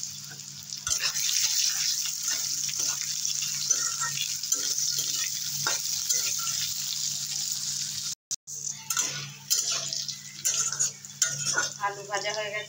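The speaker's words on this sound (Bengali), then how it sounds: "পেঁয়াজ ভাজা হয়ে গেছে, দিয়ে দেবো আলু।" Potatoes fry in hot oil with onions in a home kitchen pan, giving a continuous close sizzle broken by stirring, scraping and a few sharp clinks of utensils against the pan.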